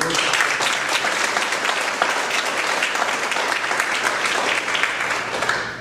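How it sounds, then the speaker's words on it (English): An audience applauds steadily and loudly, a dense wash of clapping that continues for several seconds without a break. "I'd like us all to give a round of applause for all of you"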